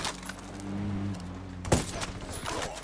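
Gunfire in Ghost Recon Wildlands makes a sharp, loud shot crack near the middle, followed by a few smaller snaps and clatters over a low game hum.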